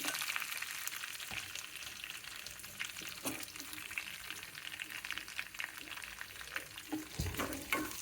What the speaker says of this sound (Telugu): ఎర్రగా వేగనిచ్చి పోపు పెట్టుకోవాలన్నమాట